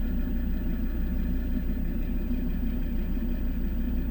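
A 2013 Volvo V60 R-Design 2.4 D5 AWD diesel engine idles nearby with a steady, even low rumble that runs throughout without revving or talk.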